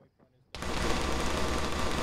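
Gunfire in the military game Arma, played with ShackTac, erupts suddenly after a near-silent moment and keeps up as a dense, loud, continuous burst of shots.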